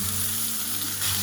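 Salmon sizzles in a hot frying pan with a steady, close, dense hiss and crackle and a low hum under it.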